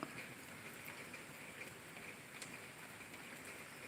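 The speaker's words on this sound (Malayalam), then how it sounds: "മഴയാണ്." Steady rain falls during a stormy spell, a soft continuous patter with a few faint drips standing out and no talking.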